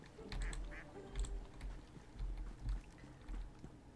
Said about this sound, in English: I keep seeing swans, but I keep hearing ducks